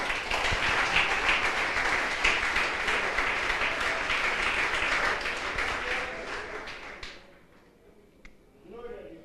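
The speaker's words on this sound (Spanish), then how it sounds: "Denle un aplauso fuerte al Señor" Loud, sustained applause from a large church congregation fills most of the clip, then fades out near the end into quieter room sound.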